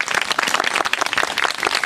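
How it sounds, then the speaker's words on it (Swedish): An audience at a comedic stage performance of Little Red Riding Hood claps in a brief, lively burst of applause, close and steady with no talking. "en liten applåd för Cecilia"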